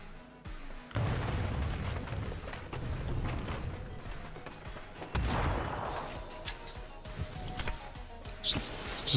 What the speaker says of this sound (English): Just me throwing a smoke behind us.